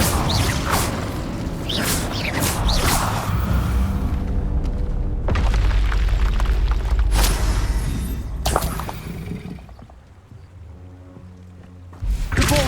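Confringo and Incendio fire spells cast in Hogwarts Legacy, a run of loud booming blasts and whooshing bursts with thuds and crackles, repeated several times with short gaps; no talk.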